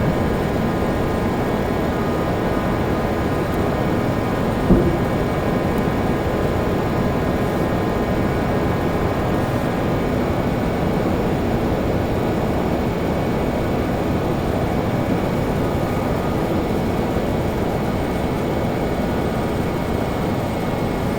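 A Lear 35 jet on approach with the landing gear down, a loud steady cabin roar of engine and airflow that holds even and unbroken throughout, with no voices.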